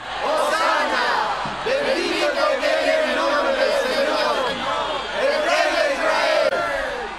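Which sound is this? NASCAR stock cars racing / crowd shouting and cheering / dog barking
crowd shouting and cheering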